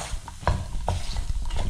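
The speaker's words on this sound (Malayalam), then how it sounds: "അതിൻ്റെ കളർ മാറുന്ന വരെ ലോ ഫ്ലെയിമിട്ട് നന്നായിട്ടൊന്ന് വഴറ്റിയെടുക്കണം." Soya chunks being stir-roasted over a low flame in a pan, with a steady close sizzle and scraping stirs; a few louder strokes stand out against the frying hiss.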